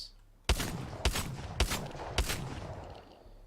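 An E8 gun fires in a video game, four loud, sharp shots spaced about half a second apart, each trailing off into a short echoing tail.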